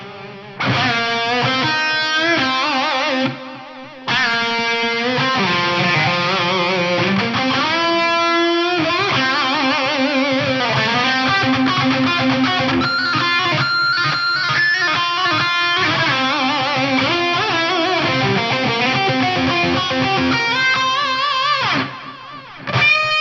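Kawai RV4 effects unit playing a synth or keyboard line through a circular, stereo-panned delay and big hall reverb, with dense sustained tones, repeating echoes and long wash, continuous and loud alone.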